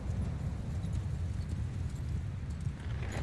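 Horse hooves clip-clopping steadily in Mount & Blade II: Bannerlord, a continuous low rhythmic patter of a horse on the move, carried along at even loudness with no talk over it.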